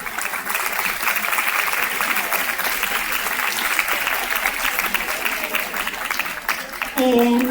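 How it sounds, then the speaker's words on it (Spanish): An audience at a STEAM training session gives a speaker a warm welcome with sustained, dense applause for several seconds. Near the end the clapping fades and a voice begins speaking. "le damos la bienvenida y un gran aplauso"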